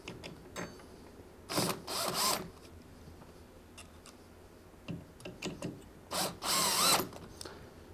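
A power drill driving screws through a bracket into PVC railing, heard as short whirring bursts of about a second each, two early and two later, with quiet clicks and handling noises between them.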